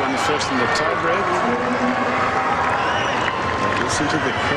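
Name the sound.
tennis crowd at WTA Championships semifinal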